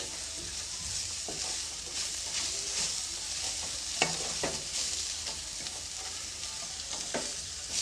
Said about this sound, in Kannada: ಅದಕ್ಕೆ ಒಂದು ನಿಮಿಷದವರೆಗೂ ಚೆನ್ನಾಗಿ ಮಿಕ್ಸ್ ಮಾಡ್ತಾ ಫ್ರೈ ಮಾಡ್ಕೊಳ್ಳಿ